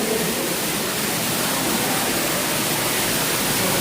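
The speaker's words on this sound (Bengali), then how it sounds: "এখানে সুন্দর একটি ওয়াটারফল বানিয়ে রেখেছে" A man-made waterfall at Radiant Fish World in Cox's Bazar pours in a loud, steady rush of falling water, close and unbroken, with no voices.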